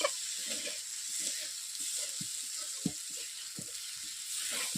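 Apple snails (googli) from a village pond sizzle steadily in a pan for curry, with a continuous close hiss broken by soft irregular stirring clacks and one sharper knock.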